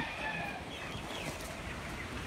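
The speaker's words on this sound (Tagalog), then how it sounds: "So ito naman yung mga manok naman." Chickens cluck softly amid a noisy outdoor background during Typhoon Ulysses, their calls faint and overlapping.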